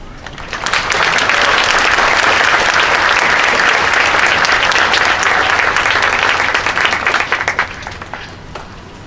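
Audience applauding to welcome Reverend Tolosa at a memorial ribbon-cutting and purification ceremony in Tanforan, San Bruno, California, a dense steady wash of many clapping hands, swelling quickly and then holding loud before slowly fading.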